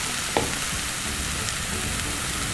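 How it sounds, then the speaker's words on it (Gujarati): Steamed sarson saag greens sizzle and hiss in a pan while being stirred, a steady close frying crackle with one sharp scrape near the start and no voices. "એકવાર બધું આપણે હલાવીને મિક્સ કરી દઈએ."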